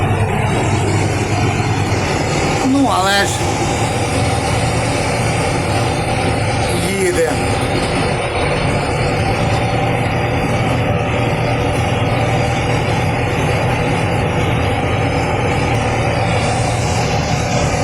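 A heavy tractor engine runs loudly and steadily in a wheat field, with a deep constant drone, as someone speaks briefly over it.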